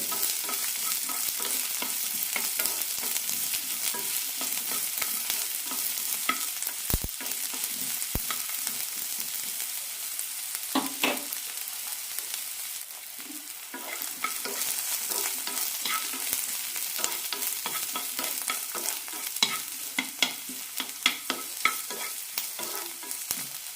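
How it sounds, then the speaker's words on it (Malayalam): Onion and garlic sautéing for an onion-tamarind chutney, a continuous close frying hiss with frequent stirring scrapes and clicks of the spoon against the pan. "ഇനി ഇതിലേക്ക് വെളുത്തുള്ളി ഇടാം നന്നായി വഴറ്റാം സവാളയും വെളുത്തുള്ളിയെല്ലാം ചെറുതായി ചോക്കണം"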